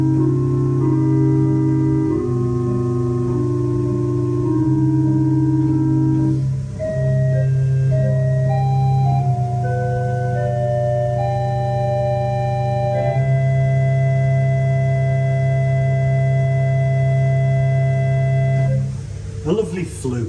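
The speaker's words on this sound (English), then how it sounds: "It is a Lieblich gedackt. It's a stopped flute." Lieblich gedackt stopped flute stop on an 1899 J.J. Binns pipe organ at Great Ayton, North Yorkshire, giving a mellow, hollow tone in sustained chords with a slowly moving upper melody, steady and close without any talking.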